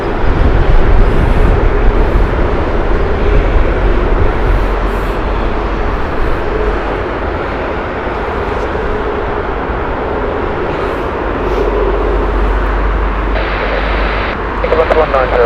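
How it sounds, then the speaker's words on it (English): A Qatar Airways Boeing 777-300 at Heathrow Airport gives a loud, steady jet engine roar that holds throughout, with a faint voice talking at times. "Okay, Qatar Doha flight 777-300 here"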